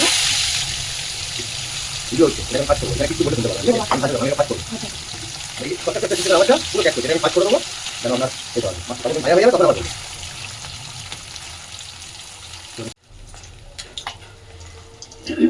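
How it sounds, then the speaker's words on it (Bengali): Pieces of bhetki fish fry in a pan with a steady sizzle and spatter, sounding close, while someone talks over the cooking for most of the stretch. "মাছ আমি কখনো বেশি কড়া করে ভাজি না, মিডিয়ামে ভাজি, না বেশি কড়া না বেশি নরম।"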